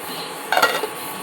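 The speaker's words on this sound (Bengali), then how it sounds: "ঢাকনাটা খুললাম" The lid is lifted off a cooking pot of black chickpeas, a short close metallic clink and scrape over a faint steady background hiss.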